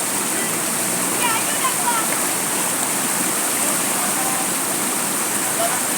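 Floodwater gushes in a loud, continuous roaring rush, close by and steady, with a few faint voices underneath.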